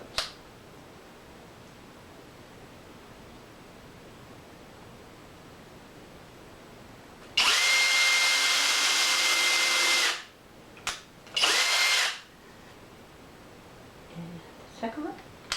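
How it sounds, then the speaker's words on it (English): A power drill bores a pilot hole while building a DIY desk: one loud, steady burst of about three seconds, then a short second burst after a pause, with quiet surroundings before and after. "I'm gonna go down a little lower and drill my pilot hole."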